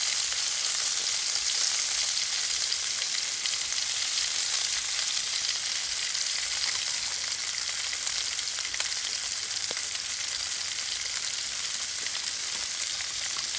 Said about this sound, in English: Oh man, that is sizzling.